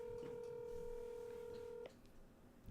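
A telephone line tone on a call being placed holds steady for nearly two seconds, then cuts off, leaving a faint, quiet room hiss.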